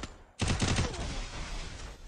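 Rapid burst of gunfire in the battle royale game Free Fire, starting abruptly and rattling on loud and continuous for almost two seconds with no talk.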